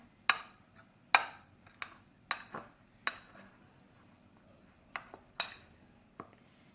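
Dry ingredients for cake rusk are stirred in a bowl, giving a series of sharp, bright clinks of utensil against bowl, spaced irregularly with quiet gaps between, close and without talking.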